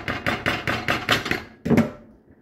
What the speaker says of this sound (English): We're just going to roll it out here onto this cooking sheet the way it is here a little bit.